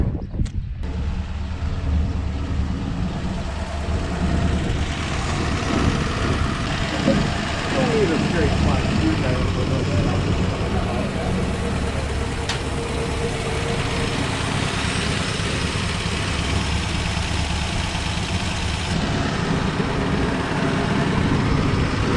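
Slant 6 engine in a 1966 Dodge Coronet idling steadily with part store mufflers, a continuous low rumbling exhaust note close by, running alone throughout.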